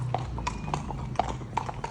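Horses' hooves clip-clop steadily on a main road during hacking, crisp close strikes in an even walking rhythm with faint background noise.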